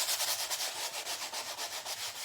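Light sanding by hand on a canvas surface after transfers, a rapid rhythmic scratchy rubbing with even back-and-forth strokes, close and steady, with no talking.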